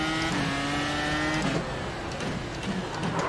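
A video game race car engine wails at high revs, then drops off into a rough, sputtering rumble with a scrape or tire noise.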